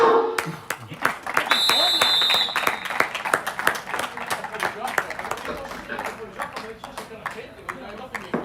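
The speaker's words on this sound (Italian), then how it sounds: "Ve lo faccio io un applauso!" Scattered clapping builds into applause from a small group at an under-17 youth football match in Italy, with people talking and calling out over it; a brief electronic tone sounds early on.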